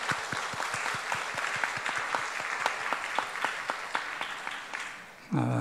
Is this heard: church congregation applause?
yes